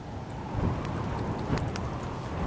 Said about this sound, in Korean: 어 바람 소리 봐.